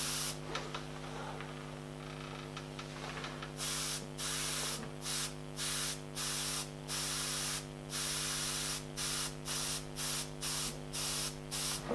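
An airbrush sprays a fine paint mist from a few inches away for a pet portrait, a steady hiss that breaks into short regular bursts over a constant low hum.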